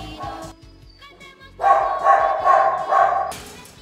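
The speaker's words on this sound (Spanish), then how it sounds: "¡Qué coñazo de ladridos, eh! ¡Ya estamos con el puto perro!" A dog barks repeatedly in a home, sharp yips at first, then a run of louder, sustained barks and whimpering howls, close and insistent.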